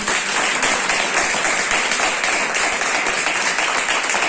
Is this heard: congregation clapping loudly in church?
yes